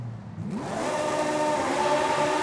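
Ferrari F430 Scuderia engine in Forza Horizon 5 winding up from a launch-control start, rising from a low idle into a loud, steady high-revving drone that holds to the end.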